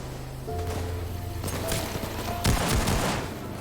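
Gunfire in the video game Payday 2, rapid bursts and heavy booms blended with tonal game sounds and a dense mix of effects, loud and continuous with a sharper volley near the end.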